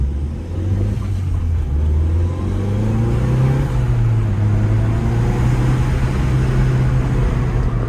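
An Audi S1 with a manual gearbox and four-wheel drive accelerating in eco drive mode, the engine droning loud and close from inside the car, its pitch climbing steadily and then holding with a constant road rumble.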